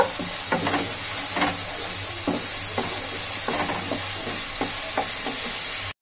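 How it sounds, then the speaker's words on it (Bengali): Ground spice masala with Kashmiri chilli, cumin, coriander and turmeric is sautéed in oil, giving a soft steady sizzle broken by repeated scraping strokes of a spatula, close and without speech. "মশলাটাকে ভালো করে কষিয়ে নেব।"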